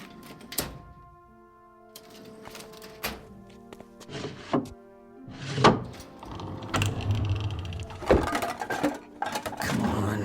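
Radio-drama sound effects of a door being worked open: a run of close wooden thunks, clicks and knocks in an irregular rhythm, some sharp and some heavier, with no speech.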